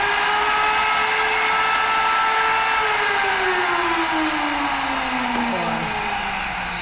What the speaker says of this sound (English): I'm going to go ahead and turn on the router.